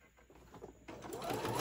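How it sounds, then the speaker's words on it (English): Sewing machine stitching fabric while making fabric bowl koozies, a steady mechanical whir that grows louder and denser in the second half, close up with no talking. "I'm sewing just right there"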